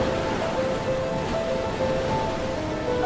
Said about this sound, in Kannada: ಅಲೆಗಳ ಸದ್ದು ಕೇಳ್ತಾ ಇದ್ರೆ ಜೋರಾಗಿ ಹಾಡಬೇಕು ಅನ್ಸುತ್ತೆ.